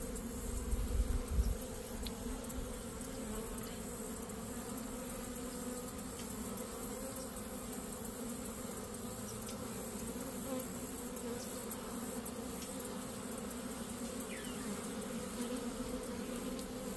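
Steady, dense buzzing of many honeybees around a hive frame, droning together at close range, continuous and even throughout with no voices.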